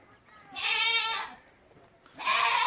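Goats in a farm shed built for a hundred animals give two loud, wavering bleats, close by, separated by a short pause of quiet.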